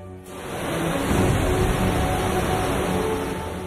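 Heavy rain pours during flooding in Delhi, a dense steady roar that swells and holds for several seconds with a low rumble beneath, and no voices.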